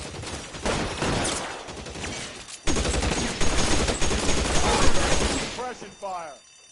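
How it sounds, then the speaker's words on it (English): Sustained suppression gunfire from a 1940s police shootout in the video game L.A. Noire, a dense rattling barrage of rapid shots that pauses briefly and resumes loud, with voices calling out over it. "Suppression fire."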